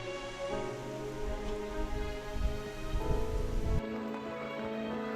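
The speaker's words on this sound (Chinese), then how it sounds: "尽管今天还在下着大雨" Heavy rain falls in a steady, dense hiss on a rural mountain walk, with low rumbling swells beneath and no voices.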